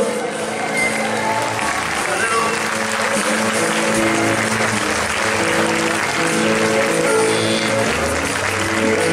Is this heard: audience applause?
yes